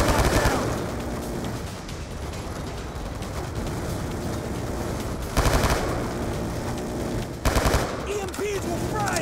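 A machine gun turret fires in Call of Duty, rattling in a rapid sustained stream of shots with louder bursts and explosions, under shouting voices.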